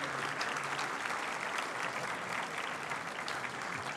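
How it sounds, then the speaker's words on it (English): Applause rolls through a ballroom at a military academy Founders Day banquet, a dense, even wash of many people clapping, heard at moderate volume from among the crowd. "So how about a round of applause for the people who have set it up?"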